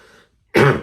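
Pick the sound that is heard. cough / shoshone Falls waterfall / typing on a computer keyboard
cough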